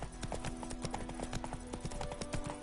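Hooves of Roach, a horse in the video game Witcher 3, clip-clop in a steady trotting rhythm, close and clear, with faint ambient tones underneath and no talking.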